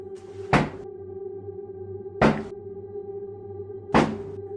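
Three sharp knocks on a wardrobe sound at 2:30 in the morning in a rented boarding-house room, evenly spaced about two seconds apart over a low steady hum, with no talking.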